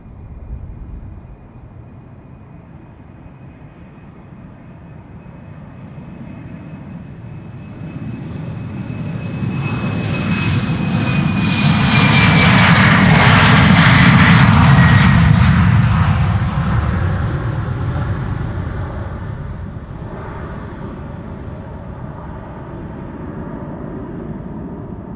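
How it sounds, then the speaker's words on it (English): A KLM Embraer 190 jet, eight years old, takes off from Schiphol, its engine roar building to a loud peak overhead with a thin whine, then slowly fading into the distance. "KLM flight 903, Embraer 190, 8 years old"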